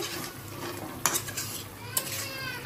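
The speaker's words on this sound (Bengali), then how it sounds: "এখন এটাকে ভালো মতো কষিয়ে নিচ্ছি" Fried potato and chicken stirred and sautéed in a pot, a soft steady sizzle with two distinct metallic clinks of a spoon striking the vessel.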